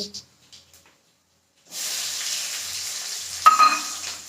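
Chopped onion hits hot oil already seasoned with fenugreek, fennel and nigella seeds after a short quiet spell, bursting into a loud, steady sizzle with a brief sharper flare of crackling partway through; no one speaks.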